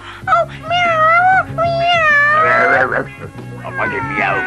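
An animated cartoon cat meows in long, wavering, expressive cries, loud and close, with a busy cartoon soundtrack playing underneath.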